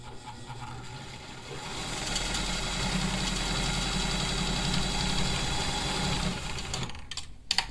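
A sewing machine stitching a medical mask seam gives a steady fast mechanical whirr and clatter for several seconds, close up, then stops with a few small clicks.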